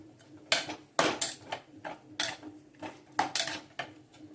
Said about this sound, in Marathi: चांगलं हलवून घ्यायचं आहे एकजीव होईपर्यंत